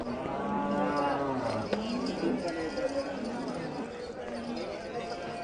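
A cow lets out a long, low, drawn-out moo close by, followed by quieter farmyard background.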